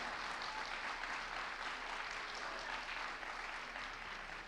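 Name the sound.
audience applause for the participants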